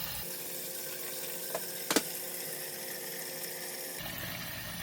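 A Samsung refrigerator dispenses water after a filter change, a soft steady gushing flow broken by air gaps, with a brief sputtering burst near the middle and a shift in flow toward the end.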